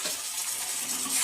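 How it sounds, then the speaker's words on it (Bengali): Water hits fish masala frying in mustard oil, producing a brief, bright, hissing sizzle heard close up. "পানি দিয়ে দিলাম"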